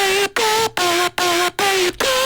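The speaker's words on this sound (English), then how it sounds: "underneath that I also have a vocal chop right here" A distorted, chopped vocal tone repeats in short bursts, cut off by sharp gaps in a steady future riddim rhythm.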